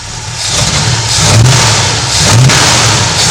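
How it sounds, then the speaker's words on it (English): An old 1960s-70s car engine, running on aged original parts after sitting unused, revs loudly and close up in two rising surges over a steady rumble, with no talking. "Let me give it a rev here."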